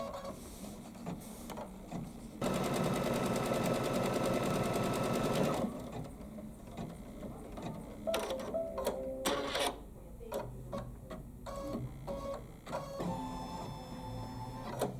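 Kimberbell embroidery machine stitching batting down on a quilting project, opening with a loud three-second run of rapid stitching, then stopping and restarting in short buzzing bursts with clicks between them.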